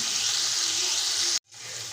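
Tomatoes drop into hot oil for chicken pulao, giving a loud, bright, continuous sizzle that cuts out abruptly near the end and then quickly returns.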